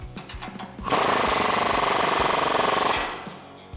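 A power tool snugs a lower suspension bolt on a 2005-2021 Tacoma 4WD through a 19mm deep socket while fitting a lift kit, giving one rattling, hammering burst of about two seconds that starts and stops abruptly amid quieter clicks.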